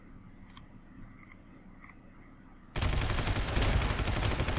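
Sustained dense gunfire from units fighting in the strategy game Supreme Ruler 2020, a few faint clicks at first, then a loud continuous rattle of shots bursting in abruptly partway through.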